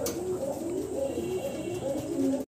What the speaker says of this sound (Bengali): দেখেন চমৎকার ফেন্সি কবুতর এবং গোল্লা গিরিবাস কবুতর